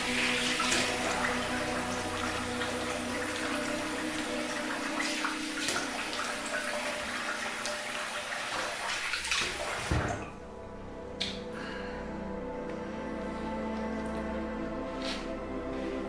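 Water runs steadily from a tap as a shaving razor with a premium Derby blade is rinsed, loud and continuous, then stops, leaving a few faint drips and clinks.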